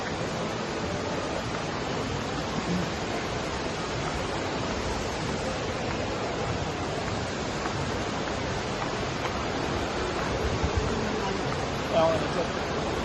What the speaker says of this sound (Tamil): இது வந்து துபாய் மால்ல இருக்கு வாட்டர் ஃபால்ஸ்